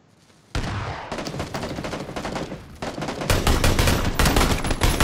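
Gunfire in the Battlegrounds video game erupts suddenly into sustained, loud automatic fire, a dense rattling stream that dips briefly and then intensifies with heavier overlapping bursts.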